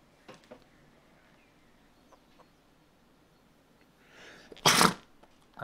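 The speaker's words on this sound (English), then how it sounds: "That was a sneeze." A single loud sneeze close to the microphone, preceded by a quiet inhaling lead-in and otherwise near-silent surroundings.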